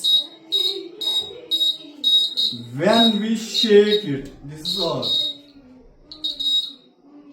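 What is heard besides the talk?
earthquake alarm beeping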